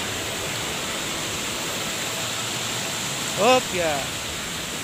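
Clear water flows in a forest stream as a steady, broad rushing hiss, with a man's short spoken interjection near the end.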